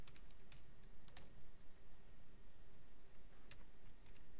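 Keys on a computer keyboard are tapped while code is typed, giving quiet irregular clicks over a steady low background hum, with a few sharper strokes standing out.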